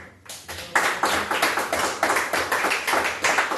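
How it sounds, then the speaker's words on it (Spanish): A church congregation claps in unison during a worship service, a loud, steady rhythm of sharp hand claps at roughly three per second after a brief start. "Dale palmas a Jesús."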